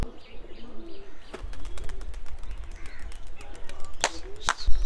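Pigeons on a rooftop coo and shuffle close by, with scattered sharp clicks and flutters and a few louder bursts toward the end.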